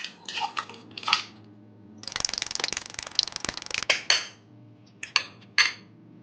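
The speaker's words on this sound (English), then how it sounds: "we start beating 1 egg" A single egg being beaten in a bowl: a whisk or fork clatters rapidly against the bowl in a dense burst, with a few scattered taps before and after, close and fairly crisp.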